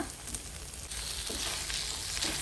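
Bangda mackerel frying in roasted masala, with a steady, loud sizzle and crackle throughout and a few soft stirring scrapes, no voices.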